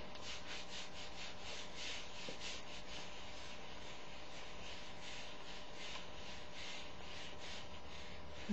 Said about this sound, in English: you get one of these wipes and you wipe the excess bits of wax off your legs